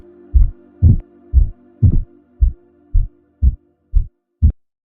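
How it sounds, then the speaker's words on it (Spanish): A deep, thudding heartbeat pulses about nine times in steady rhythm, each beat heavy and resonant over a low hum, close and loud with no voices. "El latido grave del cuarzo se aceleró hasta volverse un zumbido insoportable"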